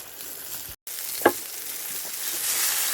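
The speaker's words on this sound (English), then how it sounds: "Oh, sizzling along nicely." Beef kebabs sizzle over a campfire at a wild beach camp in Scotland, a steady close hiss broken by a brief dropout and one sharp crackling pop, with no talking.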